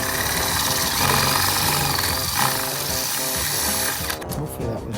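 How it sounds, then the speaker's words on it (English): A power drill with dull bits bores out the nutserts that held the spotlight on a cop car, giving a steady, buzzing whine that runs almost continuously and wavers slightly in pitch. "We started by drilling out the nutserts that held on the spotlight."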